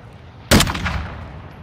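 A single loud, close gunshot in Call of Duty: Modern Warfare 2 DMZ, hitting sharply and trailing off in a rumbling echo that fades over about a second.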